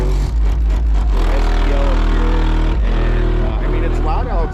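A single 12-inch subwoofer in a car plays loud bass, a heavy booming low end throbbing continuously with music over it, and a voice briefly heard under it.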